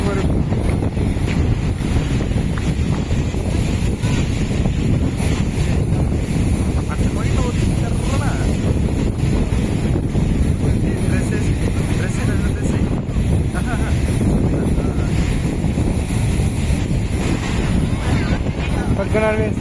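Waves and strong wind at Rock Beach in Pondicherry, a constant heavy roar of wind buffeting the microphone with surf washing underneath, loud and unbroken.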